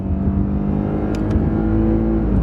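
A car pulls away hard from a stop, its engine droning loud and close with a rising, steady pitch and no voices.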